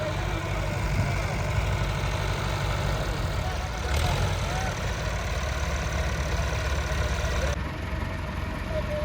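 A Massey Ferguson 265 tractor engine idles nearby, a steady low diesel rumble that holds constant throughout with no clear speech over it.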